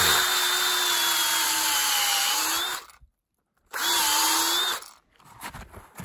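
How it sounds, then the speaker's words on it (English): A battery-operated drill bores a tap hole into a maple tree in a sugar bush, whining loudly and steadily in two runs split by a brief pause, with a short quieter tail after the second. "Battery op drills sure make a difference here."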